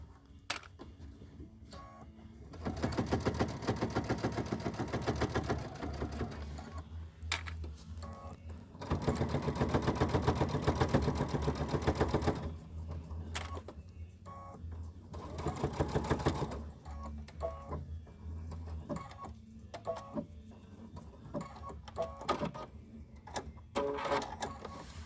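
A sewing machine stitches binding onto a placemat in a stitch-in-the-ditch seam. It runs in three loud sustained bursts with short pauses and light handling noise between them, and no talk is heard.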